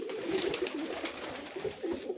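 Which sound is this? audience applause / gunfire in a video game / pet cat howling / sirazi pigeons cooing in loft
sirazi pigeons cooing in loft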